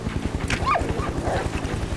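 A dog barks and yips in a survival video game, quick snarling bursts over a rapid rhythmic thumping and dense game noise, all at a busy, fairly loud level without talk.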